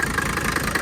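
Rebuilt Mercedes OM617A diesel engine running steadily, a loud, even idle with a rough rhythmic clatter throughout, close to the listener.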